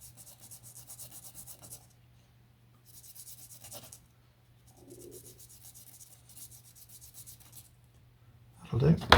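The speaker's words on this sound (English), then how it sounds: "just sand the extra bit off" Light sanding strokes take off the excess on a model aircraft rigging plate, coming in several rhythmic rubbing bursts separated by pauses, close and quiet, before a louder clatter at the end.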